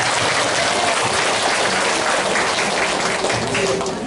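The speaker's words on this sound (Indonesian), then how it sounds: "Kita tepuk tangan buat mereka" A congregation at the opening worship service of a women's ministry retreat in Timika gives sustained, loud applause, a thick, continuous wash of many hands clapping that fades slightly at the end.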